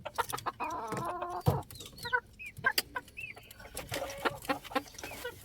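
Several chickens cluck and squawk in short, irregular bursts close by, with a few higher calls mixed in and no talking.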